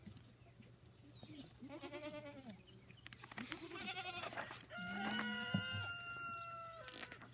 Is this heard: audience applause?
no